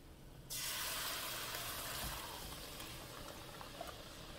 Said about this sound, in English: And now I'm going to add my corn.